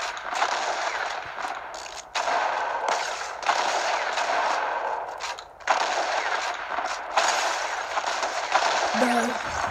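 Dense, continuous video game gunfire in rapid machine-gun-like bursts, loud and sustained for the whole stretch with brief dips, while a voice talks faintly underneath.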